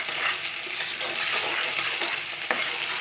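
Two beaten eggs sizzle loudly and continuously in a pan with fried potato, onion and green chili for egg noodles, with faint stirring scrapes running through the dense hiss.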